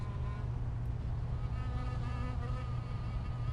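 Prison Architect game characters making a dense, continuous buzzing drone like a swarm of bees, steady and loud with a wavering hum layered on top.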